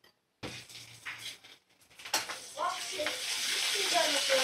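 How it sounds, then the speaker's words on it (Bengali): Ginger-garlic and cumin spice paste sautéing in a pan, a steady close sizzle that builds and grows louder over the second half, with a few stirring scrapes. "মশলাটা ভালো করে কষিয়ে নেব।"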